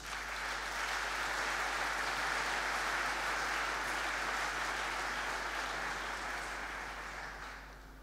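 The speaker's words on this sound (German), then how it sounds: "Einen herzlichen Applaus für Neo," An audience at an awards reception applauds steadily for several seconds, then the clapping gradually fades toward the end.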